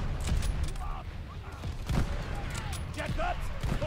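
Gunfire and explosions crackle through a World War II battle in Call of Duty Vanguard, with dense bursts, rattling shots and distant booms layered into a continuous, loud battlefield din.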